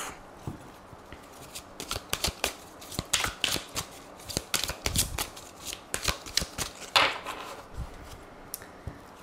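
Tarot cards are shuffled close up in a series of crisp riffles and flicks, irregular bursts of papery snapping over several seconds with a few soft thumps between them.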